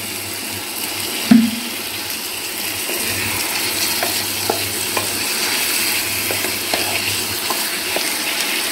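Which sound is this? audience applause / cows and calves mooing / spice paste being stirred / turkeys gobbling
spice paste being stirred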